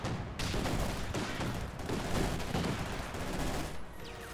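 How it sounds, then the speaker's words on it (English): Kino squad firing guns in the Company of Heroes 2 strategy game, a dense, continuous battlefield rattle of gunfire with rolling heavy bursts, steady and loud throughout. "Kino squad firing away."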